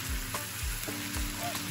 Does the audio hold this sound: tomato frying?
yes